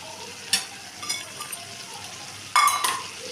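Dried fish (shutki) and potatoes are stirred in a hot pan. A soft continuous sizzle runs under two sharper scrapes and clatters of the utensil against the pan.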